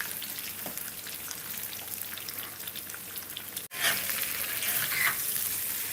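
Muthia dumplings frying in oil in a pan give a steady, dense crackling sizzle, briefly cut off near the middle and then returning slightly louder and brighter, with no talking.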